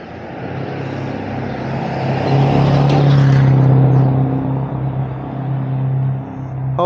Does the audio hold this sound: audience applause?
no